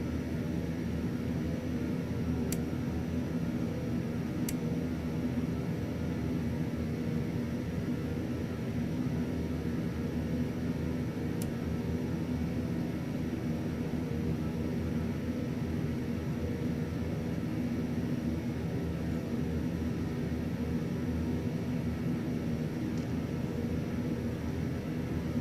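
A King Air C90B turboprop taxis in a flight simulator game, giving off a constant, smooth engine hum broken by a few faint clicks.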